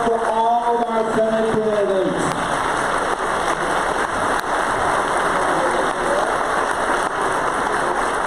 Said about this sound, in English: Let's have a round of applause for all of our Senate candidates.